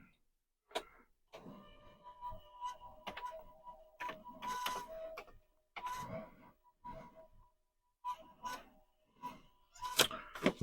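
A Commodore 1571 disk drive on a Commodore 128 setup, apparently faulty, makes irregular mechanical clicks, buzzes and grinding chatter in bursts separated by short quiet gaps, up close with no talking.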